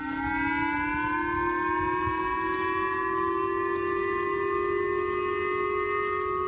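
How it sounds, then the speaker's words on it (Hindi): A civil defense warning siren in Japan wails steadily after a North Korean ballistic missile launch, its rising harmonic tone sustained and loud throughout with no voices. "जापान में खतरे का सायरन बज उठा"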